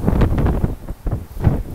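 Strong wind gusting across a seaside resort by the water, a loud rushing buffet with fluctuating gusts throughout and no talking.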